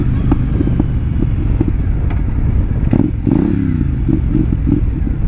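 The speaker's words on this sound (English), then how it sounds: "This is my new Triumph 2014 Speedmaster." A 2014 Triumph Speedmaster motorcycle engine runs close by, a loud rumbling idle with clattering mechanical ticks and a slight rev midway, heard alone without talk.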